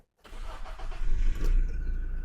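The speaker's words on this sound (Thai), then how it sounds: "ผมสตาร์ทเครื่องยนต์ให้ดู" After a moment of silence, a 2019 Toyota Revo 2.4E-Plus pickup's engine cranks and catches, then settles into a steady, rumbling idle close by.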